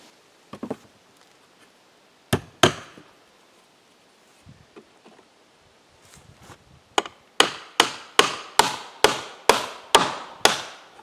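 Hammer blows tack a scrap wood spacer onto a building wall: a few scattered knocks early, then a quick steady series of about ten sharp, close taps near the end.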